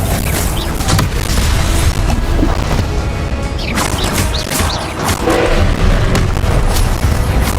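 The Expelliarmus disarming spell is cast in Hogwarts Legacy, a loud, dense burst of magical blasts and booming impacts that rolls on for several seconds amid combat noise.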